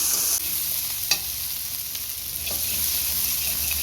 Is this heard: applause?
no